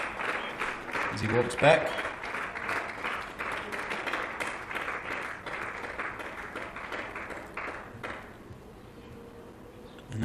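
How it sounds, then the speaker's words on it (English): A crowd at an over-40s cricket final between Wellington/Tasman and Canterbury/Otago applauds a batsman walking back after an 84-run innings. The clapping is steady and moderately distant, with a commentator talking over it. "You can hear the applause that he gets"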